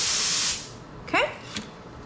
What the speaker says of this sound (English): That's gonna give us a nice, good, pressurized, even spray.